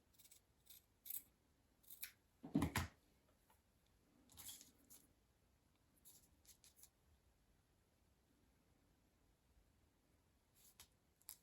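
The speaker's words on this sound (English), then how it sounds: "I'm going to trim a tiny bit off." Small scissors snip a few times while trimming material for a miniature dolls house lamp, close and quiet, a brief cluster of cuts followed by sparse faint snips.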